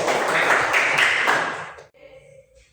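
A classroom of students claps together in a brief burst of applause lasting under two seconds, then it stops abruptly and quiet room noise follows.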